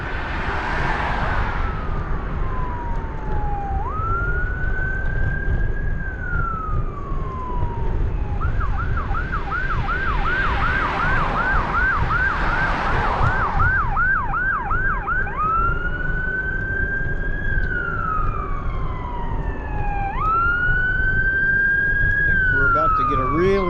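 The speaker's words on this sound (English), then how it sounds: "To get a really loud ambulance come by here." A loud ambulance siren passes by on a city street during an e-bike ride, cycling through wailing and rapid yelping tones over steady traffic rumble for the whole stretch.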